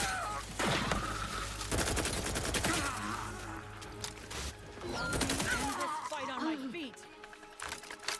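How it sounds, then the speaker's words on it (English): Bursts of gunfire from a weapon in the video game The Outer Worlds 2, loud and repeated, mixed with impacts and game effects while a person talks over the action. "this gun's pretty good against it too"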